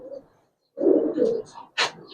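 Close, low cooing from Giribaz and coloring pigeons comes in two phrases, followed by a brief higher chirp.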